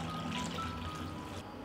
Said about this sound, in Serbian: U šerpu sipam hladnu vodu do visine poklopca.